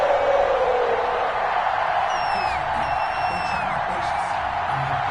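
Steady, dense roar of an NFL stadium crowd in a football video game, Detroit Lions against Cincinnati Bengals, with a few whistle-like whoops rising above the continuous wash of noise.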